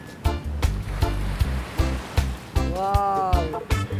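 Sea waves wash and break at the shore while out sightseeing, a broad steady surf roar with repeated low thumps, near and fairly loud, with a brief whistling tone and no clear talk.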